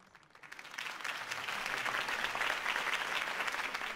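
A crowd in the Batman Telltale game bursts into applause after a campaign speech, the clapping swelling up within half a second and holding as a loud, dense ovation for the rest.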